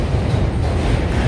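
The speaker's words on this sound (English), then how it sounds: "That's a D train going to Brooklyn" Steady, loud rumble of a New York subway D train rolling across the Manhattan Bridge toward Brooklyn, a continuous low roar with no voices.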